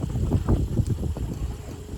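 Wind rushes over the microphone and water washes past as a sailboat under sail moves in good wind on a solo coastal passage, a steady low rumble with gusty surges.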